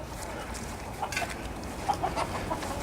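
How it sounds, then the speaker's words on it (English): Chickens cluck softly near a yard with trees, a few short, faint clucks scattered over quiet background noise. "Old Chunk and Chong, my chickens."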